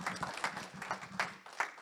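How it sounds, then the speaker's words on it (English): Audience applause before a presentation begins, fairly faint rhythmic clapping from a modest crowd, with distinct individual claps repeating through the short burst. "So please give Yang a round of applause, and we'll start the presentation."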